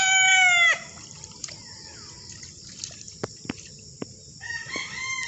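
Fighting roosters kept for cockfighting crow, one loud close crow opening, then sharp scattered clicks and knocks in quieter surroundings, and another crow beginning near the end.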